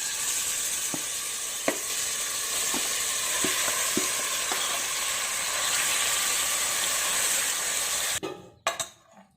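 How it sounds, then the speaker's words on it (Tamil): Marinated chicken fries in hot oil for chicken biryani, giving a loud, steady, close-up sizzle with scattered pops that suddenly drops away near the end. "எண்ணெய் காஞ்சதும் நம்ம மேரினேட் பண்ணி வச்சுருக்க சிக்கன் போட்டுக்கலாம்."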